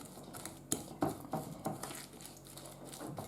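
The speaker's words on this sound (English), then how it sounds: "Really stir it." A spoon works a cake batter made with brown sugar in a mixing bowl, giving quiet, close scrapes and soft knocks in an uneven rhythm.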